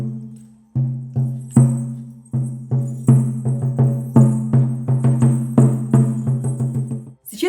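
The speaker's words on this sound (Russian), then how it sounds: "Сейчас вы услышали звук этого бубна." A shaman's frame drum struck with a beater, with evenly spaced resonant booming hits that start slow and speed up into a steady rhythm, each one ringing and decaying, played alone and close.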